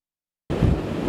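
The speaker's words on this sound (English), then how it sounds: "it is very windy out here" Strong wind and rough surf at a pier during Hurricane Erin, heard as a sudden burst of loud, dense roaring noise with heavy low-end wind buffeting the microphone, continuous after a moment of silence.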